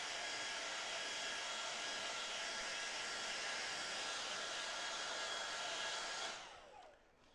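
A hair dryer blows steadily and loudly on wet watercolour paint to dry its edges, a constant whooshing roar that runs for about six seconds before being switched off and winding down.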